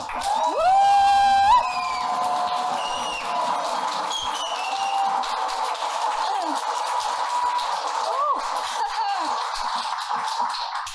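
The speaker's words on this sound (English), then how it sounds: "So huge, massive, ridiculous round of applause, please, for Northern Annie." A poetry-night audience gives sustained applause and cheering for a poet, with loud whoops and shouts at the start over steady clapping that carries on throughout.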